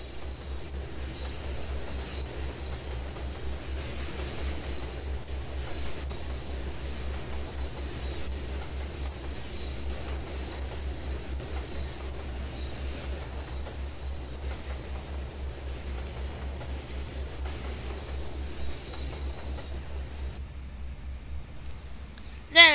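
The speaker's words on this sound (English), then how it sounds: "A CSX westbound mixed freight, which I barely crossed the tracks in time to get a hold of." A CSX westbound mixed freight train rolls past fast, a sustained low rumble and rhythmic wheel clatter with steady hiss holding for a long stretch, ending in a brief sharp knock.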